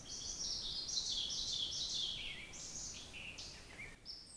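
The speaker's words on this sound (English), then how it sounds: "Occasionally through the night, I hear bird song." Bird song in a ravine at night: a string of high, bright chirping phrases rising and falling, faint and somewhat distant over quiet background hiss.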